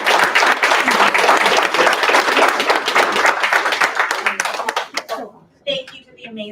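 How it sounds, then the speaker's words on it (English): Applause for children and parents at a school board meeting: dense, close clapping from a seated crowd that tapers off after about five seconds, followed by a voice speaking. "So a big applause, not only for the children,"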